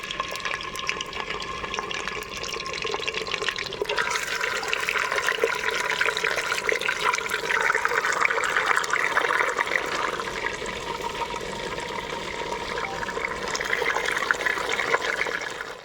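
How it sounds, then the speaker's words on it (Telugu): Washed chicken pieces dropped into hot oil in a pan set off a steady, loud sizzle and bubbling hiss that swells and holds for the whole stretch, close by with no talking. "సో చూసుకుంటే మన ఆయిల్ కూడా వేడెక్కేసింది. ఇందులో ఫుల్గా కడిగి పెట్టుకున్న చికెన్ని వేసేసుకుందాం ముందుగా."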